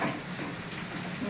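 Steady rainfall outdoors, a dense even hiss of drops holding at moderate loudness for the whole short stretch with no voices.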